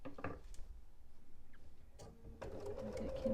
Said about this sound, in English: Go back down and stitch across, going slow.